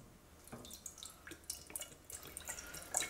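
Broth for birria tacos poured into a pot, heard as a quiet, uneven stream of splashing and dripping with small bursts of liquid, with no speech.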